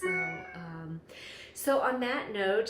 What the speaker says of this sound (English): I have to go feed my cat now.